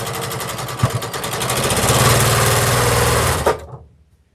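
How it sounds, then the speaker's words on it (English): Sewing machine stitching quilt rows together with a quarter-inch seam, running steadily and loud for about three and a half seconds, then stopping abruptly. "I'm going to start sewing rows together. So what I'm going to do is I'm just going to do the 1/4 of an inch, same stitch all the way down."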